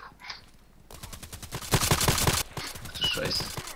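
Rapid automatic gunfire in the video game Contract Wars opens up after a brief quiet moment, with dense, loud bursts of shots rattling close by for a couple of seconds before easing off.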